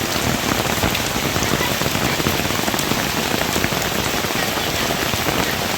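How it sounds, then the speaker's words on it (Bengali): Heavy monsoon rain pours steadily during a low-pressure system in rural Bangladesh, a dense, constant roar of drops hitting surfaces with no pauses and no voices. "ভারী বৃষ্টি হচ্ছে।"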